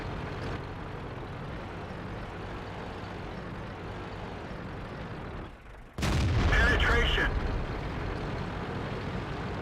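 Cannon fire from a King Tiger tank in a video game, a steady engine rumble that dips briefly, then a single loud, close blast with a ringing, clattering tail over the resumed rumble.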